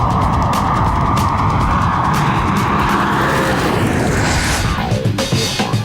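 A 2007 Audi R8 driving hard through curves and braking, heard as a loud continuous engine roar with road and wind noise, rising and shifting tone near the end.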